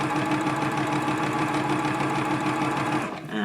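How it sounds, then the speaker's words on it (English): Sewing machine stitching a line through two small fabric squares, a fast steady mechanical whirring hum held close and loud for about three seconds before slowing to a stop. "set them into your machine up against your tape guide and gently start to sew your line"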